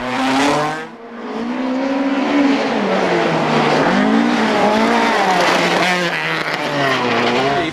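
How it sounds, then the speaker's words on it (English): A rally car at the 2006 Lurgan Park Rally races through a stage, its engine screaming loudly with rising and falling revs, gear changes and brief tyre squeal. "Rodney Wilton demonstrates his throttle technique"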